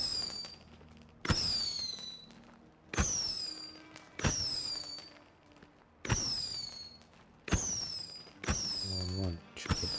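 Fireworks going off in the survival video game State of Decay 2, six or seven sharp bursts spaced about a second and a half apart, each a loud crack with a whistling crackle trailing off, fairly even rhythm.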